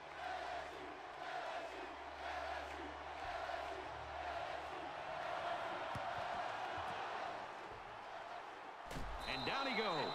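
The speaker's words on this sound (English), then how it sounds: "And just listen to this crowd, Brad." A stadium crowd roars in an NCAA 14 college football video game between LSU and UCF, a broad, steady wash of crowd noise beneath commentary, with a sharp thump and whistle-like swell near the end.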